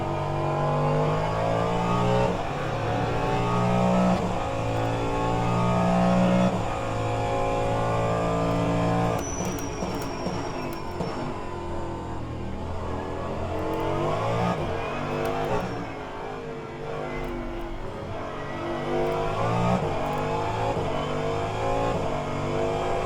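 DPi prototype race car engine in rFactor 2 at Indianapolis, revving hard and rising through gears with a sharp drop on a shift midway and further climbs and lifts. The loud, continuous in-car engine note carries alone, with no talk.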